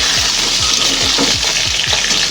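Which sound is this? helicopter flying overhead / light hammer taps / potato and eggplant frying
potato and eggplant frying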